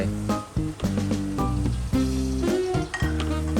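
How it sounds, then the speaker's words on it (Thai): Holy basil stirred with shrimp and squid in a hot pan sizzles steadily, with repeated metallic clinks and scrapes of a utensil against the pan in an uneven rhythm, no talking. "คนกะเพราให้เข้ากันครับกับกุ้งกับปลาหมึก"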